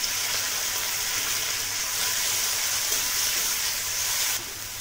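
Grated onion dropped into a hot frying pan of oil with capsicum gives a steady, loud, hissing sizzle that holds evenly and then eases slightly at the end, with no talking.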